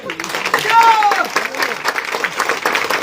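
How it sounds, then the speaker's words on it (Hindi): Dense crowd applause at an election rally in Aurangabad, Bihar, steady loud clapping with crowd noise and voices running through it. "जितने लोग हैं ताली जोरदार बजा के लवकुश का स्वागत करो।"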